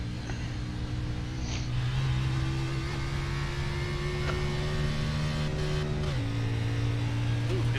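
A race car engine in the iRacing sim held against the rev limiter, a loud steady buzzing drone that bounces at a fixed pitch, then drops slightly in tone near the end.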